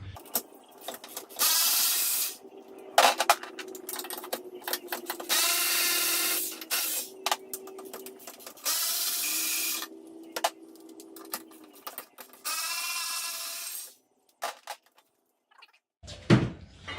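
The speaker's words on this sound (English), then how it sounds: "we need to remove these 4 of these bolts holding these rear supports up" A power tool spins out bolts holding the rear roof supports on a 1995 EZGO golf cart, with repeated loud whirring bursts of a few seconds each, separated by quiet gaps and small clanks.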